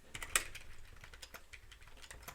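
Keys on a computer keyboard clatter in quick, uneven taps close by, with one sharper, louder keystroke near the start, then steady light typing.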